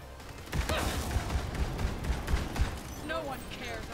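Gunfire from the video game Borderlands, in the Psycho Krieg and the Fantastic Fustercluck DLC, a rapid series of sharp shots and bursts under a player talking loosely over the action.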